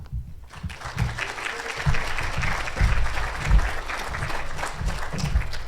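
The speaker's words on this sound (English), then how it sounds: "don't be so fast clapping" A conference audience at a Seattle cybersecurity event claps to welcome a speaker to the stage, a full, sustained round of applause with a soft low rumble of movement underneath.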